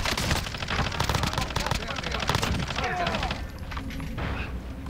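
Rapid bursts of automatic gunfire in Call of Duty Warzone on Rebirth Island, loud close rattling volleys that thin out toward the end, with faint in-game voices beneath.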